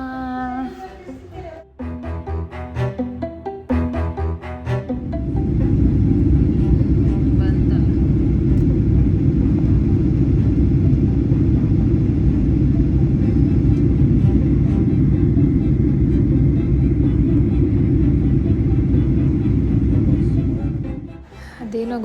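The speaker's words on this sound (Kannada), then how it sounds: "ಈಗ ಫ್ಲೈಟ್ ಒಳಗಿದ್ದೀವಿ, ಮಲೇಷ್ಯಾ ಟು ಇಂಡಿಯಾ" A steady loud airplane cabin drone fills a flight from Malaysia to India, a constant low engine rumble that settles in after a few seconds of muffled clatter and talk at the start.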